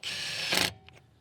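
A Milwaukee M18 FUEL compact impact wrench running at a steady high whir, then stopping abruptly with its auto stop, followed by a couple of faint mechanical clicks in near silence.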